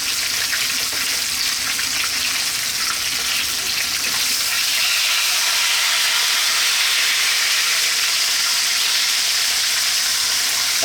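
A whole tilapia frying in hot oil gives off a strong, continuous sizzle and hiss with bubbling crackle, loud and close, steady for the whole stretch without speech.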